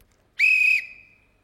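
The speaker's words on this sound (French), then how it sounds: "il siffle dans son sifflet." A single sharp, loud whistle blast lasting under half a second, with a fainter high tone trailing off afterward.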